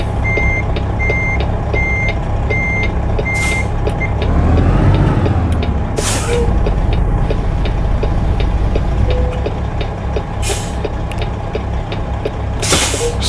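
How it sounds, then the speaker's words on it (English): A stretch semi truck sits idling with reversing beeps repeating in short pulses, then several sharp hissing blasts of air from the brakes as the parking brake is set, loud and close. "set our parking brake here"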